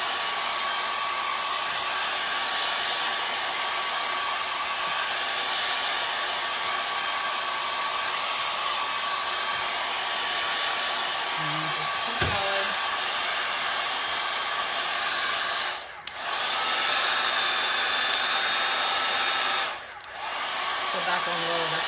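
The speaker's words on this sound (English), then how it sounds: "Actually, let me get my hair dryer. And this is another quick way you can dry your board." A handheld hair dryer blows steadily and loudly at close range over a chalkboard sign, a constant broadband whoosh that dips briefly twice as it is moved or switched.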